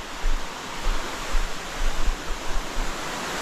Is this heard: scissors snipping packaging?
no